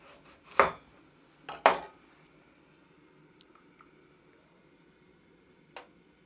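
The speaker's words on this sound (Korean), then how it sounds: "그래서 이거 너무 크니까 이렇게 좀 절반으로 잘라서 넣어 보겠습니다" A knife cuts a thick chunk of Korean winter radish in half on a cutting board, giving a few sharp crunching chops close by, followed by quiet handling and one last faint tap.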